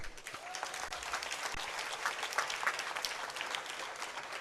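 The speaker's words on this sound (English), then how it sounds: "you need to clap for your parents" An audience at a Kampala International University graduation ceremony applauds the graduates' parents with steady, sustained clapping from a large crowd, heard at a distance.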